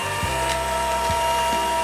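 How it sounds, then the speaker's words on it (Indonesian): An electric mixer whirs steadily and loudly while beating Oreo ice cream batter, a continuous motor hum with small knocks as the beaters move through the bowl. "Mixer sampai rata."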